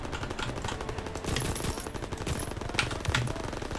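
Rapid automatic weapon fire in Call of Duty: WW2 gameplay, dense bursts of shots crackling continuously at close range with no talking.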